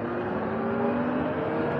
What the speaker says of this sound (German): Oh, ich habe das Gas voll aufgedreht.